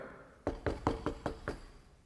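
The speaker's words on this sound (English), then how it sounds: "when you knock on a trailer, it's noisy" A courteous knock on the door of a trailer home on a reservation: six evenly spaced, hollow, resonant raps in quick succession, close and alone with no talking.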